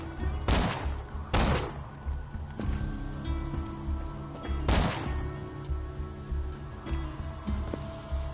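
Gunfire in the video game Borderlands 2: a few loud, sharp shot bursts, one near the start, another just after, and one midway, over a steady low game hum and ambience.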